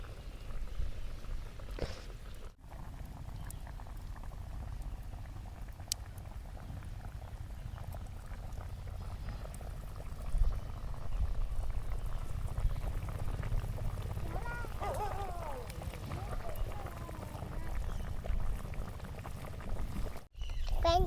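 Fish head curry boils steadily in a pot, a continuous low bubbling rumble that stays fairly even throughout, with faint clinks and light handling sounds near the middle and no one speaking.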